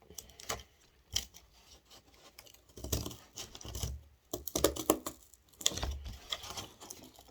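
Scissors snip through scrap material for drink coasters in a string of irregular, close cutting and scratching sounds with short pauses between bursts.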